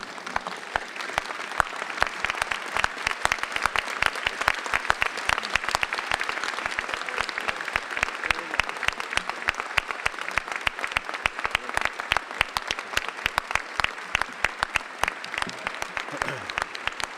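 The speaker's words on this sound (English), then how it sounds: "would you please stand with me and give him a round of applause?" Sustained, dense applause from a standing audience at a 2014 law school graduation ceremony, steady and loud for the whole stretch with no talk over it.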